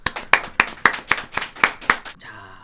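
A small group claps together in about eight sharp, evenly spaced hand claps that build briefly and then stop, with nobody speaking over them.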